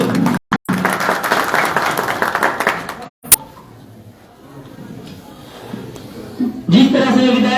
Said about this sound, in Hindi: तालियों की गड़गड़ाहट से इनका स्वागत करें